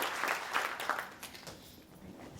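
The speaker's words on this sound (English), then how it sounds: "let's just give them a round of applause" Scattered clapping from a breakfast audience honoring state senators and a representative at a chamber of commerce legislative breakfast, moderate and thinning out after a couple of seconds, heard from a distance in a hall.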